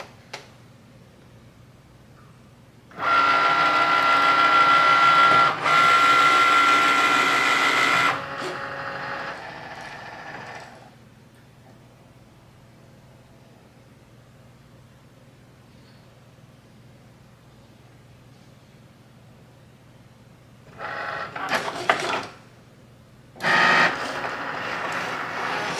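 Cricut Maker and Maker 3 cutting machines start up, a loud whirring motor drone with carriage movements for several seconds, then quiet, followed by shorter bursts of machine whir near the end.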